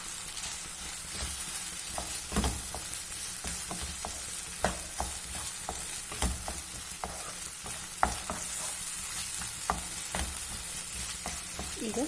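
Puliyogare gojju with jaggery powder is stirred in a hot pan, a low continuous sizzle under irregular spoon scrapes and taps, close and without voices.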